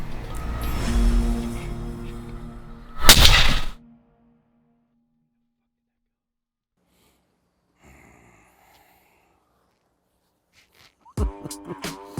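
A single sharp rifle shot fired at a buck during a hunt cracks out close and loud after a stretch of low rustling, followed by long near-silence and brief faint voices at the end.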